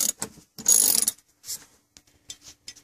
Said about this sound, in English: Using your 18mm deep well socket on either a 1/2 inch or a 3/8 drive with a 12-inch extension, remove both nuts from the seat bolt.